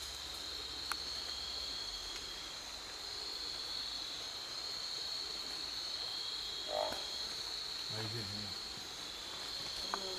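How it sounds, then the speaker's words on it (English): A northern barred frog calls faintly in the distance near Cairns, North Queensland, over a steady chorus of buzzing insects, with a few brief croaks near the end. "we can hear this frog in the background, a big Aphyxes, northern barred frog is a common name"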